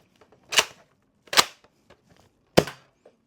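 A Nerf Loadout blaster storage attachment clicks into place: three sharp, close plastic snaps with short quiet gaps between them.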